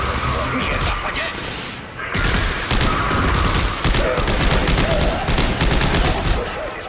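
Dense gunfire in the Dead Space 3 video game, rapid bursts of shots crashing over one another in a loud continuous barrage with a brief lull near the start, voices faintly mixed underneath.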